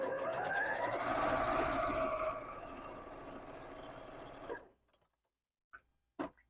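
Sewing machine stitching strips of quilt fabric right sides together, a steady fast whir running continuously for several seconds before stopping, followed by a couple of short separate clicks.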